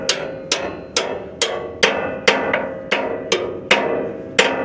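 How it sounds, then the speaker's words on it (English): A hammer striking a semi truck's U-bolt on the passenger side, about ten sharp metallic blows at an even pace, each ringing briefly before the next, loud and close with no talking. "And now we're gonna hammer it out."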